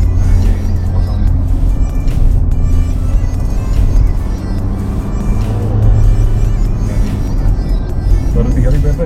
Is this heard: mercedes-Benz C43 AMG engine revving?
yes